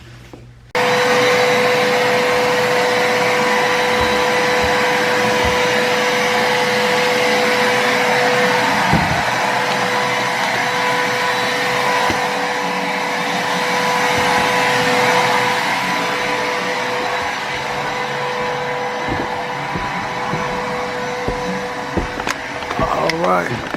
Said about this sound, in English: now I just want to get my vacuum, because as you can see, it's pretty bad off in there